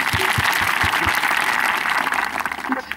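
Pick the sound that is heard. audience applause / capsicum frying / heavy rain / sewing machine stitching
audience applause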